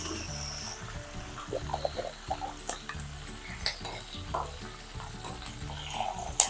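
Mustard seeds and cumin sizzle in hot oil while a spoon stirs and clinks against the pan, a soft frying hiss broken by irregular crackles and metallic taps, fairly quiet and up close, with no talking, for an Andhra-style pickle.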